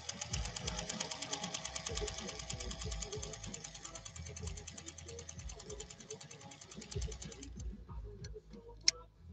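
A 1940 Singer 201-2 sewing machine stitches saddle leather with a steady, rapid ticking needle rhythm that runs for most of the stretch and then stops, leaving a few isolated clicks, with a voice talking faintly underneath.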